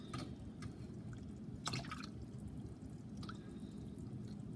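Water being poured into a pot of moong dal for rava pongal, a steady close splashing and trickling with faint drips, with no talking.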